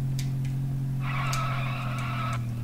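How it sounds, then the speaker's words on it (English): A car drifts through a turn in a Sega Dreamcast racing game, a sustained tire squeal over a steady engine drone lasting about a second and a half. "Let's get a heavy drift here."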